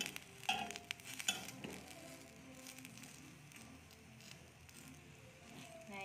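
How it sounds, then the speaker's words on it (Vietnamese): Ca Mau fish cake patties grill in a shallow pan, giving a faint, steady sizzle with a few soft clinks and scrapes near the start and no talk. "Chả cá mình nướng luôn cho nó ngon."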